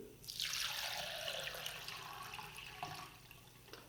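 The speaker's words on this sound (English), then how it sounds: "Then filling the vase with water pre-mixed with flower food." Water premixed with flower food pours steadily into a vase, a bright splashing stream that starts abruptly and runs continuously, close and clear, easing slightly toward the end.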